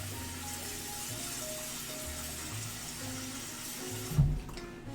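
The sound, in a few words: tap water running while washing potatoes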